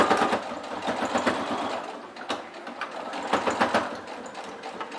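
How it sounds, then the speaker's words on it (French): A sewing machine runs a straight stitch along fabric about 1 cm from the edge, its needle rattling in fast, uneven bursts up close, briefly slowing and restarting, with no talking. "Je suis en place sous ma machine, c'est parti, j'oublie pas mon point d'arrêt au début."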